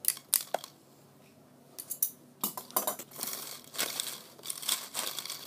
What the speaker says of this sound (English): Start by cutting these parts where the straw bends with a scissor.